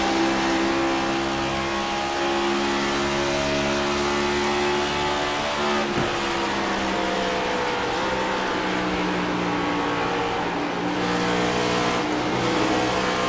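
Race car engine revs hard and loud through a sustained stretch of downshifts, the pitch stepping and sliding as gears drop, with a dense roar close by on a racing circuit.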